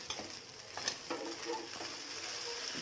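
Sabudana khichdi being stirred as it fries in a pan, with soft scraping strokes and a faint, steady sizzle, quiet and close.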